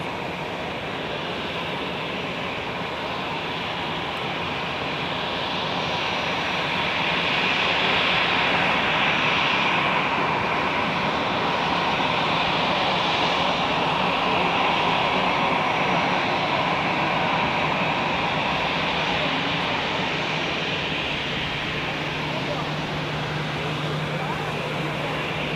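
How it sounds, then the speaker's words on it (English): An EasyJet Airbus A319 arrives at Zurich airport, its engine roar a loud, steady wash that swells slightly midway and holds throughout, heard from an observation deck with no talk over it. "here we have one arriving behind an EasyJet Airbus"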